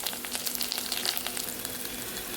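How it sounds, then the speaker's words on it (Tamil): Onions with curry leaves sizzle in a pan for South Indian sambar, a dense, steady crackling fry close by with light stirring, heard alone with no talk. "வெங்காயம் லைட்டாக வதங்கினதும் கறி லீவ்ஸ் இருக்குல்ல,"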